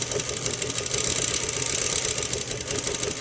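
A sewing machine quilting through fabric layers, running in a steady, continuous mechanical whir with a faint rhythmic knock throughout, fairly close and without speech.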